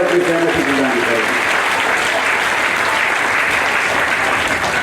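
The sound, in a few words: crowd applauding with both hands raised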